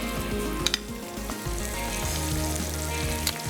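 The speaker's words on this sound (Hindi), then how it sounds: "चापें हमारी यहाँ पे फ्राई हो रही हैं" Chops frying in a pan give a loud, continuous crackling sizzle with a few sharp pops, close up and without talk.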